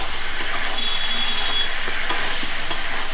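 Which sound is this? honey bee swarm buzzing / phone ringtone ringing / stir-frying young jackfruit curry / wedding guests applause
stir-frying young jackfruit curry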